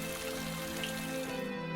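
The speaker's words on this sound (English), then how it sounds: "All of a sudden, a big downpour whisked away the paper boat" Steady rain pours down in a sudden heavy downpour for a fairy tale scene, a constant wash of drops and spatter at even loudness with no break.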